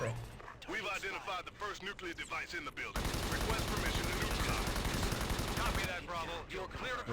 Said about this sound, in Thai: ยิงเข้าไปยิงเข้าไป